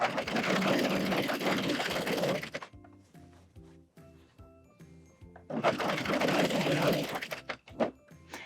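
A Husqvarna Viking coverstitch machine with a hemmer attachment stitches over a fabric seam in two close, steady whirring runs, one at the start and one later, with a quieter pause between them.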